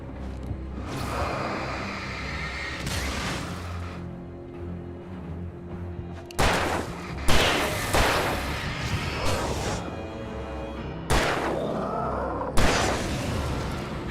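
Gunfire in Alan Wake Remastered: several loud booming shots ring out at intervals, each with a short echoing tail, over dark ambient game sound with no talking.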